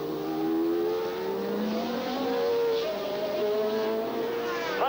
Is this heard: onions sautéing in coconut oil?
no